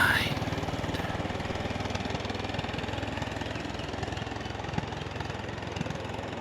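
A Honda 350 motorcycle engine idles steadily and close by, a constant low throbbing rumble that holds even for the full length with no pauses or revving.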